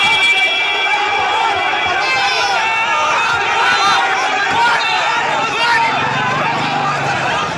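A dense crowd swarms a political convoy during an attack in West Bengal, a loud continuous mass of shouting and chanting voices close by, with no single voice standing out.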